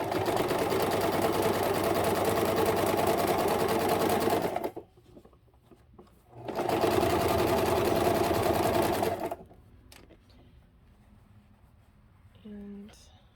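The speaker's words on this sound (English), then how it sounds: "And I really need to clean my sewing machine," A sewing machine runs in two long, steady bursts of rapid stitching, close and loud, separated by a pause, followed by quiet handling noises, while sewing a wool cover.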